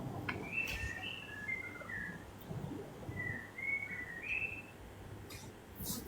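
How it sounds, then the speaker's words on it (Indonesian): A bird calls during an Indonesian live stream, giving two clear runs of short whistled chirps over a steady background hum. "Kok ada suara burung?"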